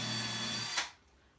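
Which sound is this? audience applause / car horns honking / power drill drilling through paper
power drill drilling through paper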